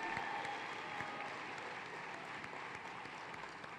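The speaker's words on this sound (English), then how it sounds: "Another big round of applause for Jess," Steady, dense applause from a large crowd at a family planning conference evening event, sounding somewhat distant and fairly quiet, continuing without a break.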